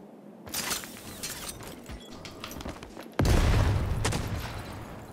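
Rapid bursts of video game gunfire crackle at moderate loudness, then give way to a heavier, louder barrage of shots in the second half.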